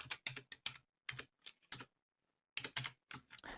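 Bursts of typing on a computer keyboard while entering a search into SEMrush: quick clusters of key clicks separated by short pauses, close and clear with no talking.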